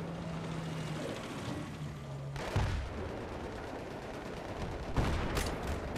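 Gunfire from a laser-sighted gun in Battlefield 3, heard as a dense, steady roar of game battle noise broken by two louder cracking bursts, with no talking.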